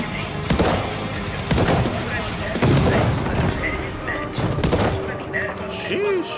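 Shotgun blasts in Call of Duty Vanguard on the Nuketown map come in several loud, punchy bursts about a second apart, set over dense ongoing game noise and clatter.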